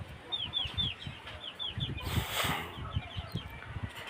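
A white chicken clucks in a run of short, repeated calls, close by and moderately loud, with scratching and shuffling noises underneath.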